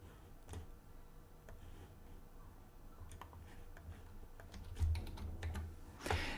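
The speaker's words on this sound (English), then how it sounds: "let me type credentials as well" Credentials being typed on a computer keyboard: a quick, uneven patter of light key taps, close and fairly quiet, over a faint room hum with no talking.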